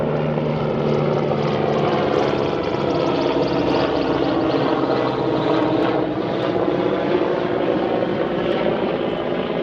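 A loud helicopter thunders overhead at low altitude near the new Everton FC stadium, its rotor and engine roar steady and close for the whole stretch, with no voices.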